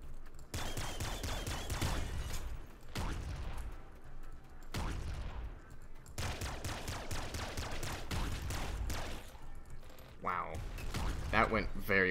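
Rapid heavy machine gun and laser rifle fire in the top-down shooter Nuclear Throne, dense bursts of shots with mechanical clatter and crashes running nearly continuously, loud and close under a layer of game music.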